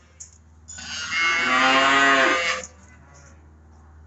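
A single long cow moo rings out inside a barn where several pregnant cows are penned, loud and sustained for about two seconds over a low steady hum, with quiet stillness before and after.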